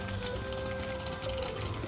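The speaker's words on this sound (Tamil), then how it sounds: "ஸோ அந்த தண்ணியையும் நான் இதுலேயே ஊற்றிடுறேன்." Water poured into a cooking pot while making a peanut and drumstick curry, a soft continuous gush with faint hum in the background, quiet and steady throughout.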